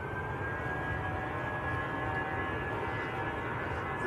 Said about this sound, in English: next to go, shuttle free Lima down to Heathrow, little A319